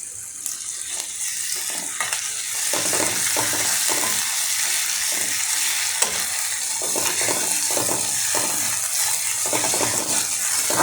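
Ginger-garlic paste fries over chopped onion in oil in a pan, giving a continuous close sizzle with scraping and clicking as it is stirred, and no talking.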